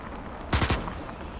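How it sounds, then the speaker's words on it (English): Short burst of assault rifle fire in the sci-fi survival game Osiris: New Dawn, three rapid close shots fired in quick succession against a quiet background hum. "Let's use the assault rifle."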